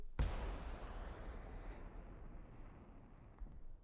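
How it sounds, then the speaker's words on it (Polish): In War Thunder, a sharp blast kicks off a long, roaring whoosh of a rocket launch that fades gradually, with a faint thump near the end. "Dla SDKF-a wystrzały rakiet brzmią tak"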